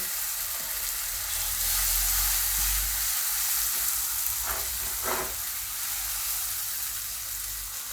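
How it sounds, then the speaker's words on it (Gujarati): Onion-tomato gravy simmers and fries in a pan over a low gas flame, making a continuous soft sizzle with a low rumble beneath and a couple of brief stirring scrapes midway. "બધી ગ્રેવી આપણે આમાં નાખી દેવું હવે આને આપણે થોડીક વાર પાકવા દઈશું"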